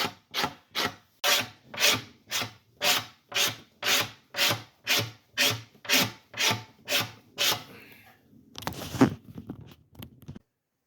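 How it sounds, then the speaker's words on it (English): Rhythmic back-and-forth rasping of sanding on a 1969 Rogers drum shell, about a dozen even strokes, followed by a rougher scraping sound. "it's still got to be scraped, and then we're gonna do some sanding"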